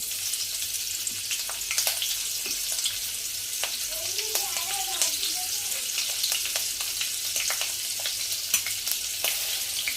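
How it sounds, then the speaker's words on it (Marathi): Garlic cloves and chillies sizzle steadily in hot oil in a pan, a soft continuous frying hiss with small scattered crackles and pops, fairly quiet and without talk. "तेल आपलं गरम झालं आहे त्याच्यामध्ये आपण लसणीच्या पाकळ्या टाकूया त्यानंतर मिरची"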